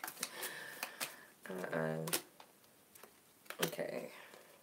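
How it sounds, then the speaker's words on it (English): Tarot cards being shuffled by hand in quick riffling bursts and soft slaps, with a person talking between the shuffles. "I'm gonna keep shuffling."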